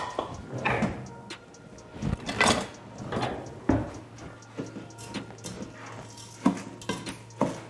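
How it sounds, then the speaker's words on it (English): Rice frying in oil in a pot for coconut rice, heard as repeated scraping and clattering of a spoon against the pot, irregular and close. "So I'm frying the rice."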